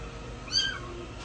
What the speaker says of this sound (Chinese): 旁边有小奶猫在叫，